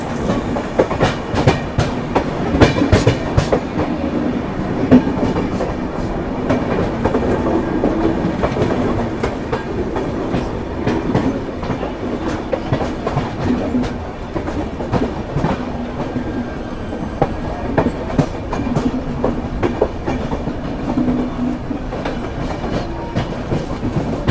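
The Kalinga Utkal Express, a daily Rishikesh to Puri train, rolls past with continuous loud clickety-clack of wheels over rail joints and occasional faint squeals, sustained for the whole stretch.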